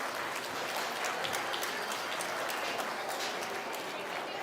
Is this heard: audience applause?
yes